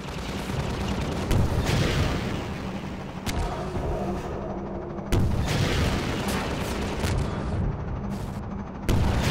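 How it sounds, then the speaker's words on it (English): Grenade blasts in Half-Life 2: several heavy booms land a few seconds apart, each a loud, close explosion that rolls off into a low rumble over a constant noisy battle backdrop. "Grenade."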